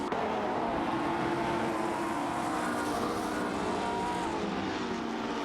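Race cars, including a Matra MS7 and a Techno Par 68, compete in an AI-driven racing video game, giving a steady, droning engine roar that holds at an even level throughout, with no talk.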